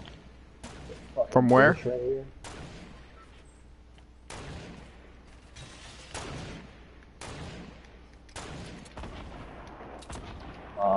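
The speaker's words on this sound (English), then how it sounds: "Is that shots at you?" Gunfire in an online duos shooter game, several sharp, distant-sounding shots in a scattered sequence, with players talking over the action.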